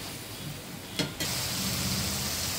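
Spice paste with green chillies frying in a pan for a hilsa fish and bottle gourd dish, giving a steady, close hiss of sizzling oil with a short stirring scrape partway through.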